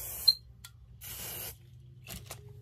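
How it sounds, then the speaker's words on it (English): Several hissing bursts from an aerosol can of hair spray, close by: a short spray, a longer sustained one, then two quick puffs, with quiet pauses between. "But I'm going to spray this."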